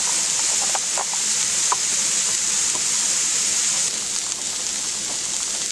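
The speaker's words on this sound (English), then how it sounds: "There's our onion mixture cooking." An onion mixture sizzles steadily in a pan for Greek pastitsio, a continuous even frying hiss with a few faint clicks, close and alone without talk.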